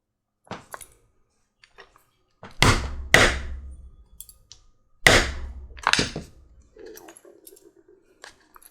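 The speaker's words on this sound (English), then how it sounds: "I'm going to go ahead and rivet that on there." A hammer sets a rivet through a leather bag strap at a buckle, giving three loud, sharp metallic strikes close by, with lighter taps and handling noises between them.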